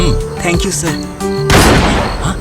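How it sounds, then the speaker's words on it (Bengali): A sharp gunshot goes off inside a building in a TV crime drama, a sudden loud broadband blast with lingering noise that follows a man's brief spoken thanks. "এটা শিওর গুলির শব্দ। আর গুলি বিল্ডিংয়েই চলেছে।"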